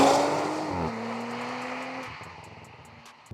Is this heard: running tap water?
no